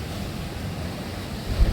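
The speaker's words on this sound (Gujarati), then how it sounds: "એટલો જોરદાર મોજા ઉછળે છે ને ના પૂછો વાત" Strong ocean waves surging onto a beach, a continuous low rumbling wash mixed with wind noise on the microphone, swelling into a louder crash near the end, with no voices.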